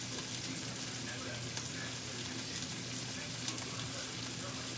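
Butter sizzling in a hot pan while searing sirloin steak, a steady dense crackle and hiss throughout with occasional sharper pops, close and continuous with no talk over it.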